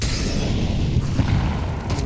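Grenades explode in a Counter-Strike esports match between TheMongolz and Spirit, deep, heavy booms rumbling loud and close over about two seconds.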